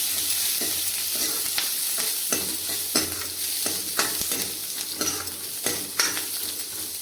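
Garlic and onion frying in a pan with cumin for a paneer curry: a loud, steady sizzle broken by repeated sharp scrapes and clacks of a spoon stirring against the pan.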